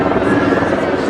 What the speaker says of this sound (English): There's some helicopters up overhead.